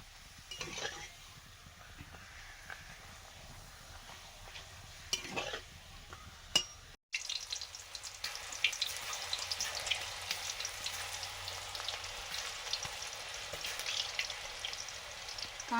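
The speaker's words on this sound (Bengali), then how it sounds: "আজকে পাঁপড় ভাজা হচ্ছে ও সর্ষের তেলে" Papad frying in mustard oil: after a few quiet seconds with faint clicks, a soft but steady crackling sizzle begins and continues with fine irregular pops, heard fairly low in level.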